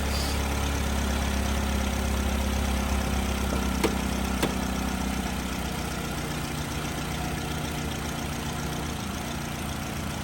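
A Chevy HHR car engine idles steadily with a low, even rumble throughout, joined by a couple of brief sharp clicks partway through.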